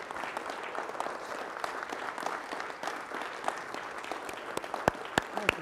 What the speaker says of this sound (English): if you would you stand up and give this man an applause?